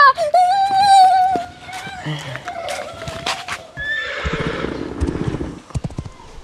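A horse gives a loud, shrill whinny, then hooves clip-clop while people shout and talk excitedly nearby.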